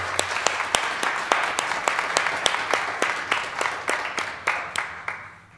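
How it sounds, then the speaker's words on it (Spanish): An audience claps at a church or community gathering, steady applause with distinct individual claps standing out, fairly close and loud, tapering off toward the end. "para el cual siempre pido un aplauso."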